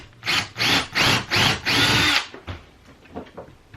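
A power drill bores holes into a plastic bucket lid for a workshop dust collector cyclone, five loud, close bursts of whirring in quick succession followed by quieter handling clatter.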